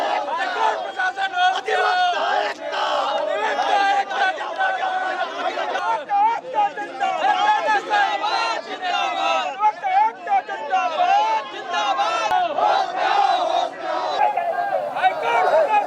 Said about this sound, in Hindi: जो अधिवक्ता हैं वो यहाँ पर प्रशासन के खिलाफ लगातार नारेबाजी कर रहे हैं।